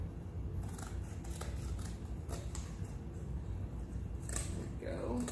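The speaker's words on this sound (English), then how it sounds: "or I'm gonna cut mine off." Scissors snip through excess paper hanging over the edge of a picture frame, a few close, faint crisp cuts set against quiet room noise.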